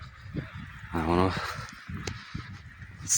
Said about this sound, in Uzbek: simga o'tirib olgan, sim yog'ochdagi kabelga o'tirib olgan qarg'alarga e'tibor berib qo'yasizlar do'stlar.